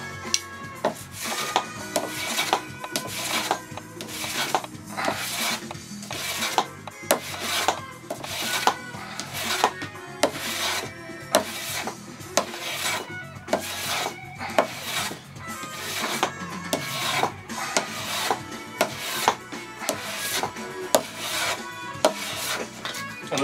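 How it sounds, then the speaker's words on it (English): A hand plane shaving a wooden violin rib in a long run of regular rasping strokes, each a crisp swish followed by a brief gap, close and alone with no talk. "it's planing just as nicely in this direction as it was in the other direction"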